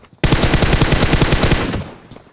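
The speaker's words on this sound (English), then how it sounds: "So many shots hitting the banister." Rapid automatic gunfire in a PUBG pro league match, with shots striking a banister. A loud, sustained burst of closely spaced shots starts abruptly, runs for about a second and a half, then cuts to quieter tails and a faint late shot.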